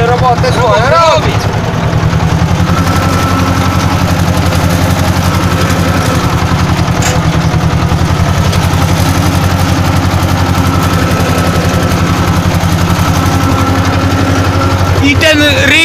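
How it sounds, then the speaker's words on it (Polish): An engine rumbles loudly and continuously at close range, holding a steady, heavy low drone for the whole stretch, with a voice briefly heard over it. "I ten ryk silnika. Coś wspaniałego."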